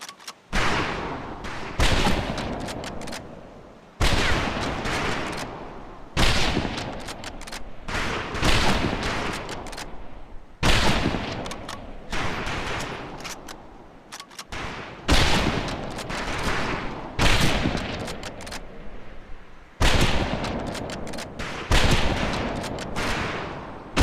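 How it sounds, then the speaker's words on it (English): Rifle fire on a boot camp shooting range in the video game Medal of Honor Pacific Assault: loud, dense rapid volleys of shots in repeated bursts with short gaps, sustained and close, with no voices. "Ready on the right. Ready on the left. Stand by, targets. Fire!"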